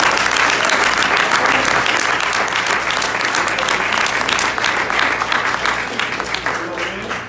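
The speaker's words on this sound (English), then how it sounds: "Give them another round of applause." A large audience at a Nation of Islam gathering breaks into sustained applause, dense crowd clapping filling the space and tapering slightly toward the end, with faint voices mixed in.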